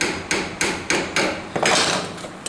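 A hammer drives a nail into a wooden block in a shop project, landing about six evenly spaced blows close and loud, each sharp knock roughly a third of a second apart, with no talking.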